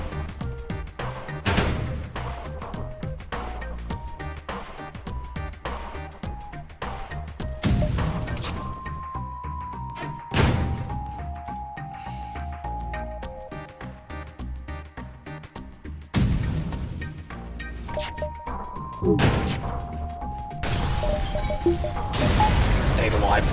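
Flak cannon volleys in the spaceship game FTL smash into enemy ship shields: several loud crashing bursts spaced through steady electronic game music and tones.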